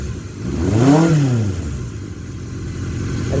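A 1978 Kawasaki KZ650 motorcycle engine revs up once and falls back smoothly to a steady idle, loud and close, with no one talking.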